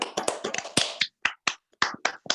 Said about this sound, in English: give yourselves a giant round of applause